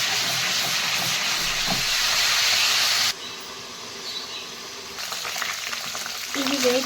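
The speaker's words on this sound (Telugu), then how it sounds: "ఇవి వేగుతూ ఉంటాయి" Brinjal curry ingredients frying with salt in a pan make a loud, steady hiss and sizzle that drops briefly quieter midway, then swells again with light stirring.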